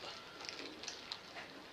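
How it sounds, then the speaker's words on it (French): Chopped onions sizzle in a frying pan while wraps are being made, giving a faint, steady hiss scattered with small crackles and pops. No voices are heard. "on entend les crépitements des oignons"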